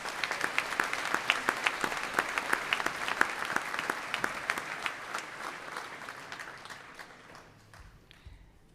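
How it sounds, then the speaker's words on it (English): A graduation audience at the Naval Postgraduate School applauds its engineer graduates, a crowd of sharp, distinct claps that gradually thins and fades out toward the end. "Please join me in a round of applause for all of our engineer graduates."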